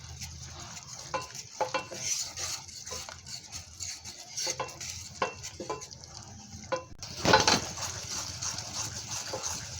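Sugar syrup for besan laddu is stirred in Amway Queen cookware, with soft scraping and repeated light clinks of a spoon against the pot over a faint bubbling, ending in a louder metallic knock.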